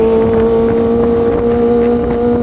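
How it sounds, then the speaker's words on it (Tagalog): A Kawasaki Ninja ZX-25R motorcycle engine screams at high RPM: a loud, steady, tonal whine that holds its pitch for the whole stretch, with no talk over it. "Grabe ang screamer ng bike na to."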